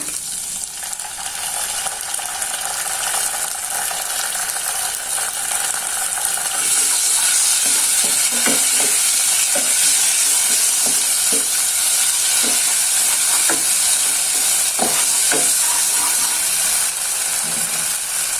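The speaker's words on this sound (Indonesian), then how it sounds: "Dan di sini untuk bumbu rawonnya saya masukkan ya" Rawon spice paste frying in a pan, with a loud steady sizzle and hiss that grows stronger midway, punctuated by repeated scraping clicks of a utensil stirring, close and without talk.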